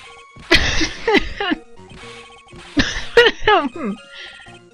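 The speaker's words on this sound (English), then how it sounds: "could that stupid cough possibly sound any phonier?" Two bursts of exaggerated, theatrical coughing in a video game, each a few harsh hacks, loud and close over a quiet background, sounding forced rather than natural.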